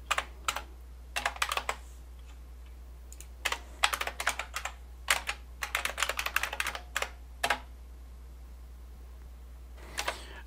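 Someone types on the keyboard of a Brother WP-1 word processor. Close, crisp key clicks come in quick irregular bursts with short pauses between them against a quiet steady hum.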